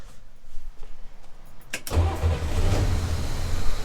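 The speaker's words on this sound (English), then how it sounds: "we're gonna go forward here and turn the engine on" A Chevrolet Corvair engine is started after a quiet stretch, with a sudden crank followed by the motor catching into a loud, steady, rumbling idle that carries on close by.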